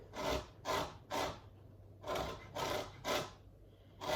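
Lemon zest being grated on a metal grater, six rhythmic rasping strokes in two groups of three, close and clear with short pauses between and no voices.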